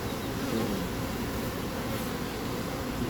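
A dense, steady hum of agitated honey bees fills the air at an apiary during robbing, a loud continuous buzzing swarm close around the listener with no voices.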